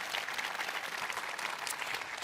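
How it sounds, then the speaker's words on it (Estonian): Audience applause at a military song concert, steady moderate clapping from a crowd filling the whole short stretch. "Ma arvan, et väike aplaus oleks ka võib-olla kohane."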